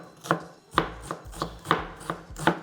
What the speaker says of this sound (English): So I finally chop in one medium-sized onion,